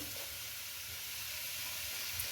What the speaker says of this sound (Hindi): एक कढ़ाई लें, उसमें 700 ग्राम चिकन वो डाल दें, 1 टेबलस्पून लहसुन अदरक पेस्ट, 2 मीडियम प्याज